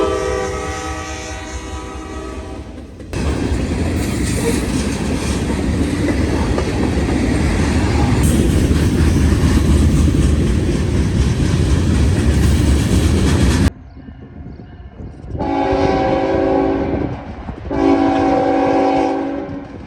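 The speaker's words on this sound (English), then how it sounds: "This train is Chicago, Illinois to Cumberland, Maryland manifest, and with an SD70 AC rebuilt leader, followed by a YN2 AC40." A CSX manifest freight train led by a rebuilt SD70AC locomotive passes close and loud, a long horn blast followed by a continuous rumble and clatter of wagons, then further horn blasts after a brief drop.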